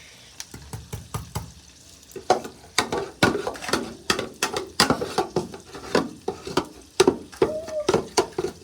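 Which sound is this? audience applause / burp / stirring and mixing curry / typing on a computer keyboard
stirring and mixing curry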